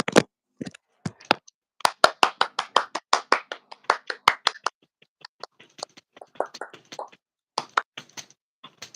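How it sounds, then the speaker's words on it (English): A round of applause for podcast guest Nova, sparse and uneven, like a handful of people clapping nearby, with no talk over it. "And a round of applause for Nova."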